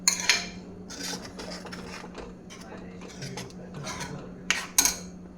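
A lid is set on a cooking pot of butter chicken, with several sharp metallic clinks and rattles, one early and a cluster near the end, over soft background rustling.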